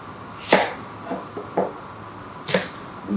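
A knife chops onion on a cutting board in a few separate, close strikes, sharp thuds spaced unevenly with quieter cuts between.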